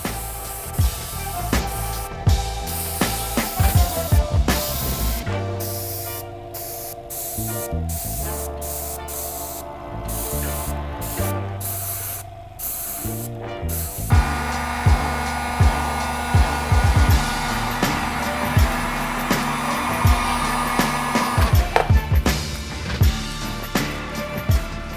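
Airbrush spraying color-shifting chameleon paint thinned with neutral and a bit of tooth thin during a custom restoration, a steady hiss running throughout with brief pauses and loud bursts over background music.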